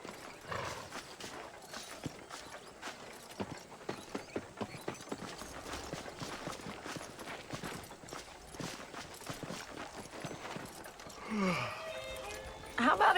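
Horse hooves clip-clop steadily on the ground in the Western video game Red Dead Redemption, a quick repeating rhythm that runs the whole time, with a whinny near the end and game dialogue spoken over it.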